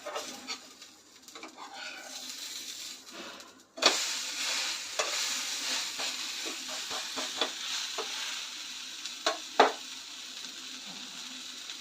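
Uttapam fries in oil on a pan with a soft continuous sizzle, broken by sharper crackles and spatula scrapes after a louder burst when oil is added.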